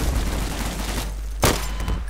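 A WW2 gun in Garry's Mod fires a single loud, sharp shot midway through, standing out against steady background noise with a fainter report shortly after.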